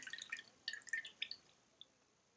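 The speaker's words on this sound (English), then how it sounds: "Transfer the water back to the bowl and squeeze in the same manner." Water squeezed from a sponge drips into a bowl: a few small drips, quick and irregular at first, then slowing to a last single drop. Quiet and close.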